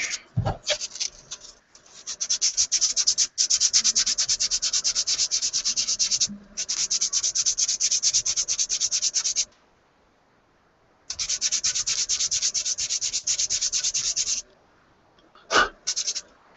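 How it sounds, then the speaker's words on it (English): Sandpaper rubbed over a model car seat in long, steady bursts of dry scratchy friction, close up and fairly loud, pausing briefly between passes with a few short strokes at the end. "Yeah, I'll just go ahead and sand it"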